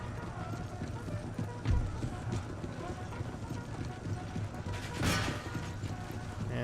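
Lancer cavalry charge in the Empire Total War video game: horse hooves clatter and thud in a busy battle mix, with occasional whinnies and crashes while a voice talks over it.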